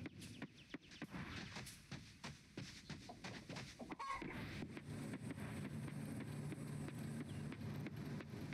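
Chicken in the farming video game Coral Island, a quick run of close, sharp clucks followed by a steadier, softer clucking and faint ambient background.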